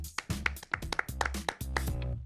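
A small group clapping to welcome a guest onto a sports talk show, close and loud, with uneven sharp claps in quick bursts and a few brief pauses.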